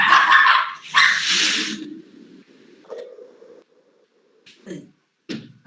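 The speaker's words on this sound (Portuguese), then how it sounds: "O meu cachorro." A pet dog at home barks and yips in a few short bursts, loud at first and then sparser, with no speech over it.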